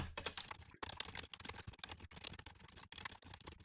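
Fast, steady typing on a computer keyboard while writing Rust code, a dense run of close, crisp key clicks with a few brief pauses between bursts.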